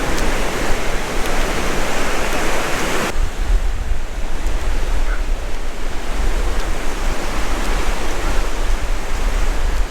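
Ocean surf rolls onto the beach at South Padre Island, Texas, as a loud, continuous wash of breaking waves and wind roar with no pauses.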